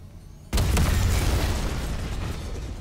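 A loud detonation in the Dead Space Remake game bursts in abruptly after a quiet start, then trails off into a sustained rumbling roar and debris wash that stays strong to the end.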